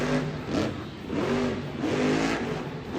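A Monster Jam monster truck at Anaheim, running with a fault that leaves its back right wheel with no power, revs its engine in loud surging bursts, several rising and falling swells in quick succession with no talk.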